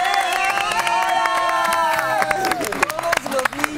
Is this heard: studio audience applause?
yes